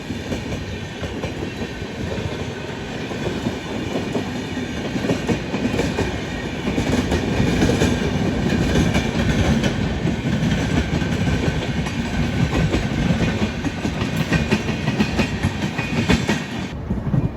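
The Pushpak Express, an Indian express train between Mumbai and Gomti Nagar, rumbles steadily on the rails with a loud, continuous clatter and roar heard from on board, the sound holding level throughout without any voices.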